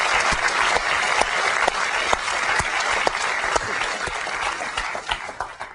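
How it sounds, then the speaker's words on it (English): Sustained audience applause fills a hall at a 2001 Apple special event launching the white iBook, dense and steady throughout, with a few sharper claps standing out from the crowd. "And I'd just like to give them a round of applause."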